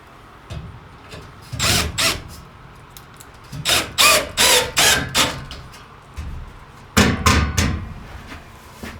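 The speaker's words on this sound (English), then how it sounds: "replace it with another large sheet metal screw" A large sheet metal screw is driven into a storage box shelf with a power drill in several loud whirring bursts, each a second or so long, separated by short pauses, close up and without talk.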